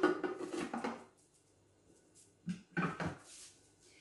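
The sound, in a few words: Thermomix lid and measuring cup being put in place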